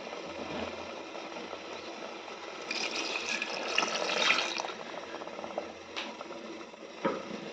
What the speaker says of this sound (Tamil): இந்த டைமில் நம்ம தண்ணியை சேர்த்திக்கலாம்.